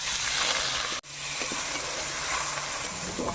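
Potatoes dropped into hot oil already holding fried curry leaves, black cumin and green chilli, sizzling loudly and steadily in a home kitchen pan, with a brief break near the start.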